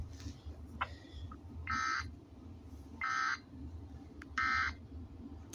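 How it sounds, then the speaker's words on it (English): Cartoon fake emergency alert tone: three evenly spaced loud buzzing beeps, each about a third of a second long, over a low background hum, with a few fainter blips in between. "That's a false alarm."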